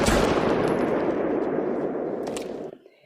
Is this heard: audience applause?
no